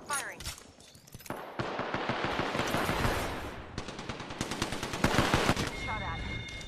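Video game gunfire rattles in rapid automatic bursts, loud and close, with pauses between volleys and sharp single shots, while a character voice calls out briefly amid the shooting.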